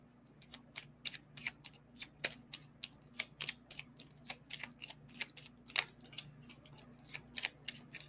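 Playing cards being shuffled and flipped, giving a steady run of quick, crisp flicking snaps close by for about eight seconds, with no talking.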